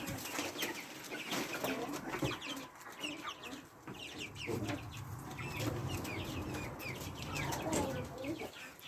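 Farm chickens cluck and chatter close by during morning chores, with a rooster's calls and bursts of wing flapping mixed into the steady, busy flock noise, while people move and talk in the background.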